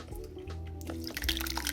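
Sauce poured onto a meal, a short wet dripping and splattering run of liquid, close and fairly quiet.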